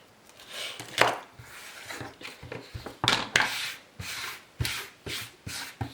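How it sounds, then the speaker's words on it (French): An eraser rubbing pencil marks off paper, a close scratchy back-and-forth in irregular strokes with short pauses between bursts, no talk. "on va gommer pour enlever les traces de crayon à papier"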